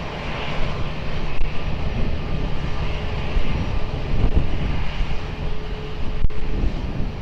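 An airplane on final approach to runway 20 at Lisbon Airport gives a steady, loud, broad engine roar with a low rumble and some wind buffeting. The sound holds nearly level throughout, and no one speaks.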